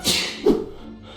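A single sharp human sneeze, loud and close, with a breathy intake followed by an abrupt burst that trails off quickly.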